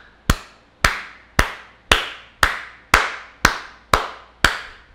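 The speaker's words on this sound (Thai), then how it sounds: "ปรบมือเลย" Eight sharp, evenly spaced hand claps ring out one after another at a steady, slow rhythm, loud and close, with brief decays between them.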